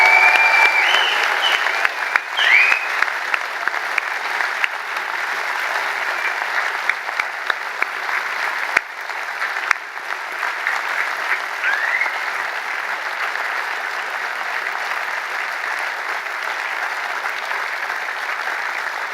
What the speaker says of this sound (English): Let's have a huge clap and cheer for the class of 2018.